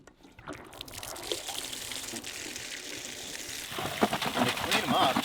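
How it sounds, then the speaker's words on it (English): Fresh water running over muddy items, a steady pouring and trickling splash close by, with soft background sounds and some faint voice-like noise underneath. "just run them under some fresh water here."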